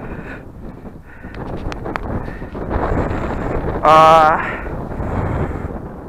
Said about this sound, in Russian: И вновь дует сильный ветер